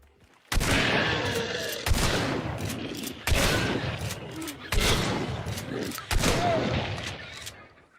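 Lever-action rifle firing in the video game Hunt: Showdown, five loud booming shots spaced about one to one and a half seconds apart, each with a long echoing decay, close and dominant.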